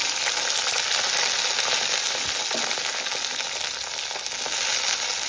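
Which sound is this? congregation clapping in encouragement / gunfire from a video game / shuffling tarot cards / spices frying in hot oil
spices frying in hot oil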